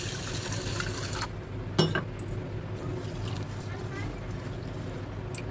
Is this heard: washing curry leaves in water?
yes